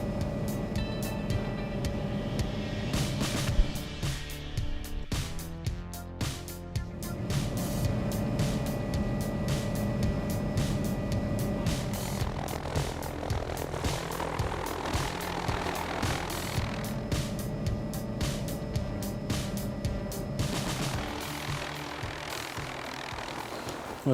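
East Kawaki Helicopters helicopter approaching Ruahine Corner Hut in the Ruahine Range, a steady rotor thump and turbine whine that stays prominent and grows fuller throughout, with no talk.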